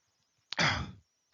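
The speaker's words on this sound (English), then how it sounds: "coughing in your ear. I'm really sorry." A single short, breathy cough from a lecturer, close to the microphone and alone against near silence.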